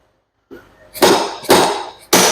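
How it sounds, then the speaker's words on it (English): A hammer drives a gland into a tie-rod hydraulic cylinder with three loud, sharp metallic strikes about half a second apart, close up, after a softer initial tap, with no talking. "hammer our gland in there."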